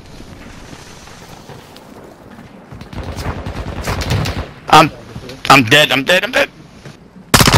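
Enemy gunfire rings out in a video game as several sharp, loud bursts of shots cluster in the second half, mixed with excited talk from players.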